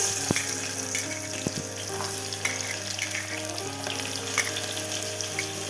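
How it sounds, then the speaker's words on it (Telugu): Onions sizzle and crackle steadily in hot oil for a mutton curry, with a constant close frying hiss and a few sharp pops and clinks. "ఇప్పుడు ఆయిల్ వేడెక్కాక ఆనియన్స్ అయితే వేస్తున్నానండి"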